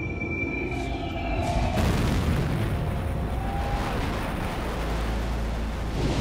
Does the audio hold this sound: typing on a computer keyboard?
no